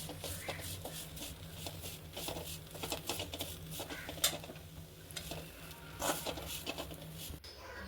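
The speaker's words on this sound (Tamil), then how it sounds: "3 கொத்து கருவேப்பிலை எடுத்து நல்லா க்ளீன் பண்ணி கழுவி காய வச்சுட்டு ஒரு கடாயில் போட்டு" Curry leaves dry-roast in a kadai pan for curry leaf rice, giving a faint, soft crackle with scattered light stirring taps and patters throughout.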